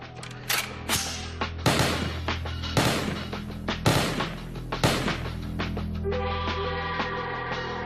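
Sharp metallic clacks and ratcheting clicks, several in quick succession, as parts of a Masada rifle are fitted together, a barrel seated and a short grip attached, loud and close with ringing tails.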